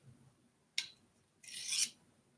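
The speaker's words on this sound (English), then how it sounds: "I'm just sharpening this blade." A blade is drawn across a sharpening surface in two distinct rasping strokes, a short scrape followed by a longer grinding one, close and fairly quiet against a still background.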